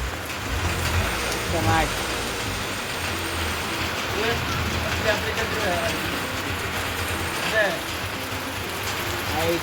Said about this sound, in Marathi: तुम्ही बघू शकता किती जोरदार पाऊस पडतोय